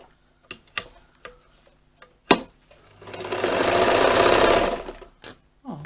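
A zig zag sewing machine clicks through a few single stitches, then runs in a steady, loud whirring burst for about two seconds before slowing back to isolated clicks, close up and without speech.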